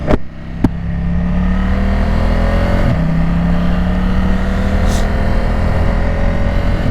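Motorcycle on Michelin Road 6 tires riding downhill on a wet road, a steady close engine drone with a gently shifting pitch, continuous throughout with a couple of sharp clicks near the start.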